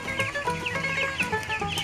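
Several broiler chickens on a raised slatted platform cluck and chatter close by in a busy, continuous overlapping chorus, with no talking.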